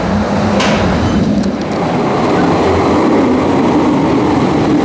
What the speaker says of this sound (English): Here comes the train, tooting and puffing.